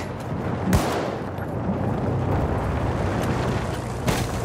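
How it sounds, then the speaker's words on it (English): Battlefield 1 battle noise carries machine gun fire and distant blasts: a constant low rumble of gunfire with two sharp, loud cracks standing out near the start and end, with no clear speech. "There, enemy machine gun."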